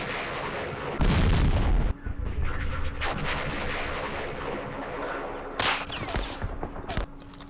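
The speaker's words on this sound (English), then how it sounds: "Oh shit, they do have artillery." Artillery fire in the Campaign Series East Front war game, with a heavy booming blast followed by further loud shell bursts and rumbling impacts, heard alone without talk.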